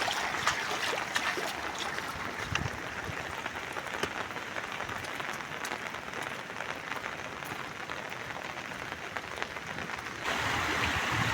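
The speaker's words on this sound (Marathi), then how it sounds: "आणि इथं लाईनीन सगळं धबधबं पडतात रस्त्याच्या लाईनला." Heavy monsoon rain pours down while roadside waterfalls rush along the road near Bauddhawadi, a steady, dense wash of falling and flowing water close by, with no talk.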